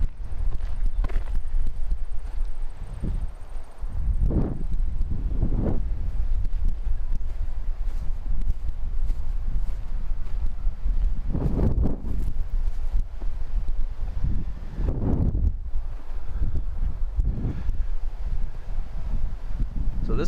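Breezy wind on a mild day at a forest campground in a Minnesota state forest rushes in steady gusts, with swelling surges of noise rising and falling every few seconds.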